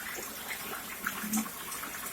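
Water gushing from a side bore drilled into a well, heard as a steady, fairly faint continuous wash of running water with no talk over it.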